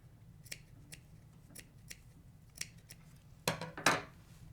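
Scissors trim upholstery piping for a box cushion cover, making a series of soft, close snips that build to two louder, longer cuts at the end.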